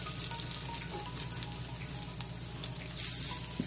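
Omelette lachha paratha pressed flat in a hot pan, giving a steady, loud sizzle with fine crackling throughout and soft scrapes near the end.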